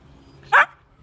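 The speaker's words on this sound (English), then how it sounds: "Yeah, my dog agrees," A single short, sharp dog bark rings out close and alone, over a quiet room background.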